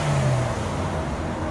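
Stock exhaust on a 2022 Hyundai Venue 1.6L revving, a loud, close, steady engine drone with no voices.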